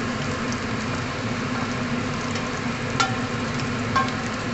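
Onion and garlic frying in a pan, a steady close sizzle and crackle throughout with a couple of faint clinks of stirring, no voices.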